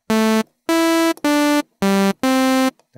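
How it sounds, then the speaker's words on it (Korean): Five sustained sawtooth-wave synthesizer notes from the Cubase Retrologue 2 virtual synth, each about half a second long, loud and buzzy with bright harmonics. The notes shift in pitch and are separated by short silences, with no voice. "요게 소우투스 웨이브라고도 하고 네. 톱니 모양을 하고 있다고 톱니파라고 합니다."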